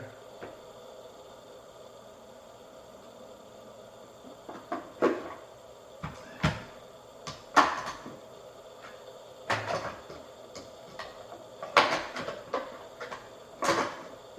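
Mirror door of a Graflex Crown Graphic press camera handled with a series of sharp clicks and knocks, irregularly spaced and close, over a quiet background.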